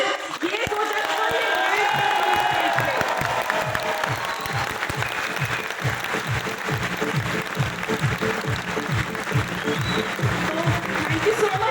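A seminar audience claps in a loud, sustained burst that rises to a full roar and then settles into steady, rhythmic clapping, with some crowd voices mixed in.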